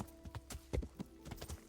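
Horse hooves clip-clop in a video game, a faint, steady trotting rhythm of soft thuds heard alone at low volume.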